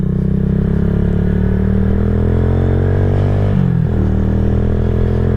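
A KP Mini 150 motorcycle fitted with a new muffler hums steadily under riding, a loud, close, continuous engine drone that briefly dips in pitch and then recovers, with no talking.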